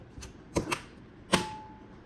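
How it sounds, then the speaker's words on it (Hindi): A silver vacuum sealer's lid is pressed shut and latches on the left and right, giving a few sharp, close plastic clicks spaced over two seconds, with a faint thin tone after the last click. "वैक्यूम सीलर बंद करते हुए आपको लेफ्ट और राइट से क्लिक की आवाज आएगी।"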